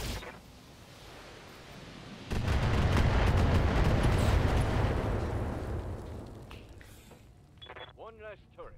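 A loud, roaring blast and rumbling fire as weapons destroy a turret in Battletech, swelling suddenly and then tapering off, with mechanical whirs and chirps near the end.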